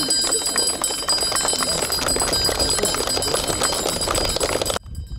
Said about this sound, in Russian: Традиционный символ прощания с детством – последний звонок